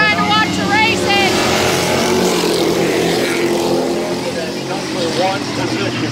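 Street stock race cars at Midvale Speedway roar past in a steady, loud engine drone with rising revs, while a crowd chatters and a voice calls out over the din.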